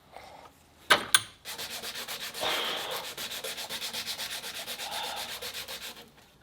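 Parts of a sling bow being sanded by hand, with two sharp knocks at the start and then a steady rhythmic back-and-forth rubbing, one even stroke after another, close and clear.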